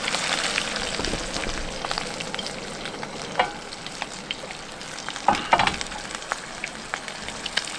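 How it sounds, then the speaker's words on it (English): White perch fillets fry outdoors in a pan at a winter ice camp on Lake Winnipesaukee, giving a dense, continuous crackling sizzle heard up close. Brief louder pops and spatters stand out here and there. "I'll bring you in close with the microphone for that. That sizzle."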